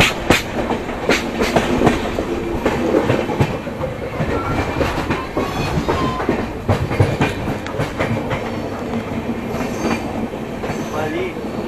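The Sachkhand Express passenger train rolls over a track switch between Nanded and Chandigarh, with steady clickety-clack of wheels over rail joints, sharp clunks and faint squeals, heard from inside the carriage with light background voices.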